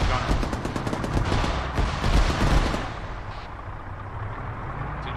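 Sustained automatic gunfire rattles in dense, loud bursts against an enemy gunner in the ArmA 3 combat game, then breaks off, leaving a quieter battlefield rumble.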